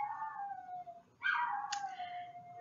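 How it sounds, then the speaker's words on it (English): A neighbor's dog howls from a distance, one long drawn-out tone that breaks off and then resumes in a rising, wavering howl with a sharp yelp, heard faintly through room noise. "that's the neighbor's dog barking and howling at something."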